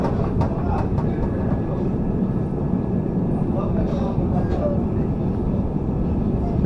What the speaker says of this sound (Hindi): तो गाइस हम लोग finally Pataliputra railway station depart कर चुके हैं।